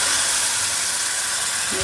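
A loud, steady hiss of steam as hot water is poured into a pan fills the whole moment, broad and continuous, with a faint low rumble beneath.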